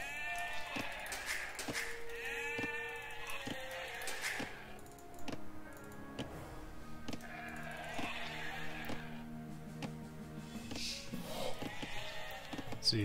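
Sheep bleat repeatedly in a real-time strategy game, Age of Empires Rome at War, on a Nomad map, with several overlapping bleats amid soft game clicks and thunks at moderate volume.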